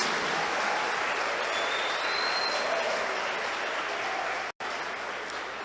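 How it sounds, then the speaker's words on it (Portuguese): A church congregation claps in steady, dense applause that fills the space, sustained with a brief cut near the end and continuing afterward. "Vamos aplaudir o nome de Jesus."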